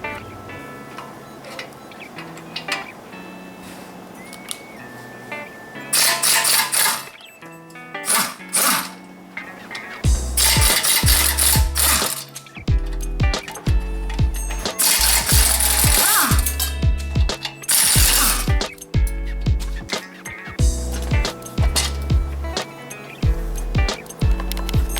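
Bolts being backed out of the rear end plate on a 1967 Ford F100 8.8 rear end, heard as bursts of whirring power-tool or ratchet noise mixed with metallic clanks and knocks, loud and close, starting and stopping repeatedly.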